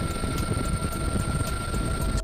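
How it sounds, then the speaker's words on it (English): A Boeing MH-139 medium-lift military helicopter drones loudly and steadily, its rotor thumping in a fast regular rhythm over a deep engine hum. "Multi-mission medium lift military helicopter."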